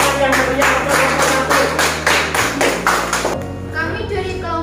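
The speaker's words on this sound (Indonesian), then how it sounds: "beri tepuk tangan yang meriah untuk kelompok" Classroom audience applauding a student group after a presentation, a dense burst of clapping that runs for several seconds and then tapers off, with a low hum underneath.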